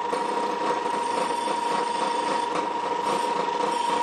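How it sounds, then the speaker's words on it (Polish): A drill bores into wood on a folding DIY woodworking press, giving a steady high-pitched motor whine with a sustained tonal hum and no pauses. "Jeszcze lekko to wiertło ucieka, ale może już teraz będzie dobrze."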